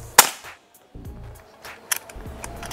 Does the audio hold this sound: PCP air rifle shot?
yes